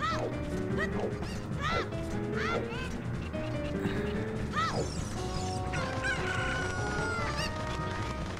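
Chickens in the video game The Legend of Zelda: Ocarina of Time crow and cluck repeatedly in quick bursts over game background noise and clattering effects, with a person talking.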